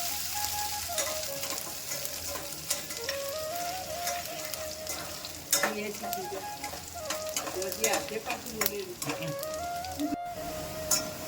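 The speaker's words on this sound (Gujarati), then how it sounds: "હવે આપણે એની અંદર ઉમેરી લેશું ડુંગળી. ડુંગળીને હલકી બ્રાઉન કલરની થાય ત્યાં સુધી આપણે ચડવવાની છે." Chopped onion frying in a pan while being stirred for a spinach and chana dal curry, a soft continuous sizzle broken by scraping spoon strokes and occasional clinks, close but fairly quiet.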